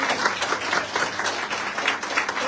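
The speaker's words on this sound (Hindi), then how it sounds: "जोरदार ताली होनी चाहिए।" Continuous, dense audience applause from a seated crowd, steady and fairly loud throughout with no pauses and no speech over it.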